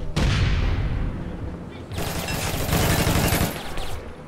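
Loud, dense gunfire in APB Reloaded, a modern online shooter, in two heavy clustered volleys split by a short lull, rattling rapid shots with booming low end, close and continuous, no talk.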